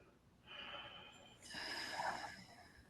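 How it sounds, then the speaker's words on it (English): An audible breath taken during a guided breathing moment, a soft airy inhale followed by a longer, stronger exhale, close and quiet with no talking. "take a breath through your heart"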